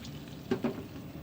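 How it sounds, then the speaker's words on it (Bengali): Chopped onions fry in oil in a pan beside browned chicken for a korma, a soft brief sizzle with two quick louder bursts as they are stirred, close and without speech. "এবার পেঁয়াজ কুচিটাকে আমি একটু ভেজে নেব"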